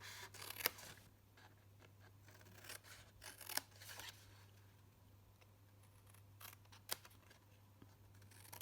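Scissors snip paper while trimming small bits off a handmade gift card, a few faint, close cuts spaced over a quiet room with a steady low hum.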